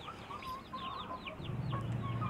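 Free-range native chickens in a box-style coop cluck repeatedly in short, close calls, with a louder, lower squawk near the end and soft farm background noise underneath.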